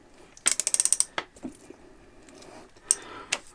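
Ratchet wrench tightening bolts on a Honda Transalp motorcycle, a quick run of about eight sharp clicks, a few scattered knocks, then a couple more isolated clicks, close and clear with no talk.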